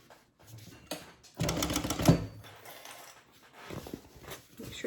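A sewing machine top stitches a fabric handbag in short, rapid mechanical bursts, strongest in a loud run near the middle, with quieter clicks and pauses around it.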